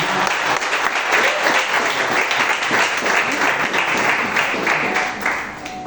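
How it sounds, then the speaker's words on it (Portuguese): Congregation applauding during a church campaign service, a loud, dense sheet of clapping from many hands that holds steady for several seconds before easing slightly at the end. "Aplauda o Senhor pela vida."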